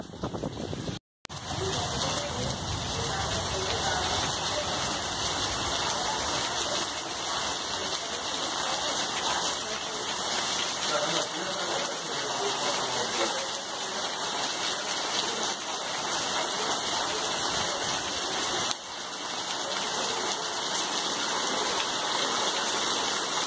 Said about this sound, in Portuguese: Olha só, gente. Muita chuva.